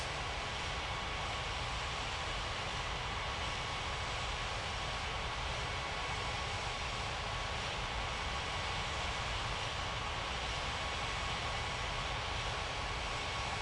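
Airplanes taxiing in an air traffic control video game produce a continuous, even jet engine drone at moderate level, with no pauses and no voices.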